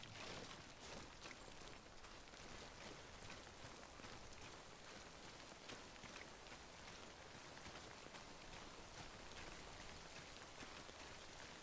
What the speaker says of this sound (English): Honestly, just going through the rain. With the thunder.